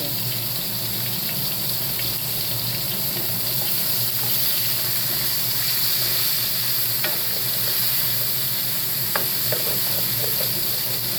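Chopped onion sizzles steadily in a frying pan while a utensil stirs and scrapes the bottom, a constant close frying hiss with light scraping knocks throughout and no voices.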